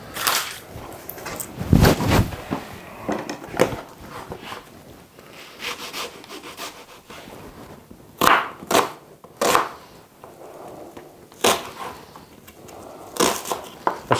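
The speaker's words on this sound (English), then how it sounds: "There's several ways to cut up an onion" An onion being chopped with a knife on a cutting board, with irregular, sharp close-up cuts and scraping strokes, some bursts clustered together and others spaced apart, with no talking.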